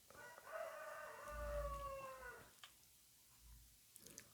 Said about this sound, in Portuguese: Até o galo tá apavorado.